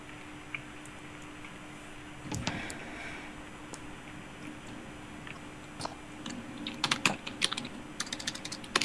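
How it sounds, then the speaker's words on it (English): Typing on a computer keyboard, with irregular soft key clicks that start sparse and build into quicker clustered taps toward the end, heard close over a quiet room hum. "I was typing slow."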